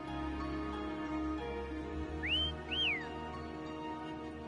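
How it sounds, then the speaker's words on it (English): Two short rising-and-falling whistles, one after the other, sound over a steady background hum with music-like tones, in the video game Wuthering Waves. "Try whistling."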